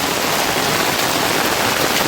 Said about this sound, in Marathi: आता पाऊस चालू झाला आहे गावाला